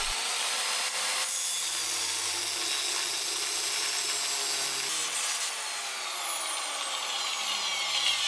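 An angle grinder cuts on a Saab 9-5 Turbo, a steady high-pitched whine with continuous grinding noise that holds almost unchanged, then the pitch sweeps as the disc slows near the end; no speech.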